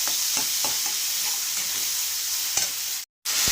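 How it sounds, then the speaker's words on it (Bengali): Chili powder, turmeric and spices fry in oil and are stirred for a dried-fish curry: a loud, constant sizzle with occasional soft scrapes of the spoon, cut by a brief moment of silence near the end. "এক চামচ লঙ্কা গুঁড়ো এগুলোকে ভালো করে আমি মশলার সঙ্গে কষিয়ে নেব"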